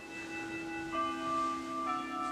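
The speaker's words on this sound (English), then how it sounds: "Uh-oh, school bell" A school bell rings in a music video, with steady sustained metallic tones that hold and overlap, a fresh strike coming in about midway, alone with no talk.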